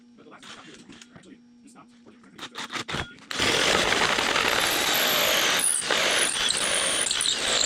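A power drill boring a hole through a table built from junk: a few knocks and a brief tool whine, then a loud, sustained grinding roar that runs to the end with small dips in pitch.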